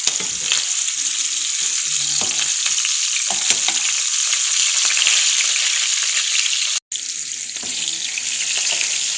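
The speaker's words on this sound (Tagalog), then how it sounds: "Ito naman yung karne natin. Piniprito natin saglit." Meat fries briefly in a pan for a rice dish, giving a loud, continuous bright hiss with a few faint clinks and one abrupt momentary cut near the end.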